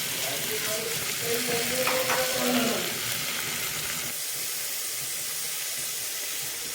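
Chopped vegetables, carrots and peas frying in a pan for pav bhaji, a dense close sizzle with stirring scrapes early on, settling into a steady hiss.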